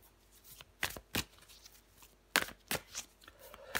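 Tarot cards are shuffled and drawn by hand, giving quiet, close riffles and crisp slaps of the deck at uneven intervals, with soft rustling between the louder bursts.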